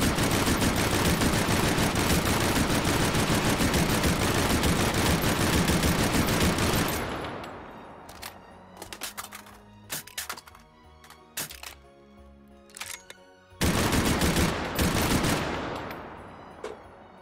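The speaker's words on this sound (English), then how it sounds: "There's the Lewis gun." Lewis gun machine gun in the VR shooter Hot Dogs, Horseshoes & Hand Grenades firing long, loud sustained bursts, then a stretch of scattered clicks and handling sounds before another heavy burst near the end.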